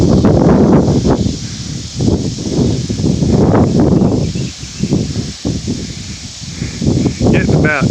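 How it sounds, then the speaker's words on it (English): Strong wind from a severe Oklahoma storm buffets loudly in surging gusts with rustling, rising and easing over several seconds. "Getting about 20 mile per hour winds now."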